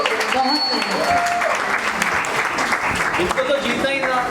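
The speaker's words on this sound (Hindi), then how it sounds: "जोर से तालियां बजाइए" Lively applause from an audience at a charity evening after a dance performance, loud steady clapping with voices and cheers mixed in over it.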